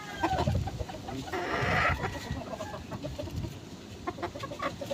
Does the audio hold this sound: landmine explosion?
no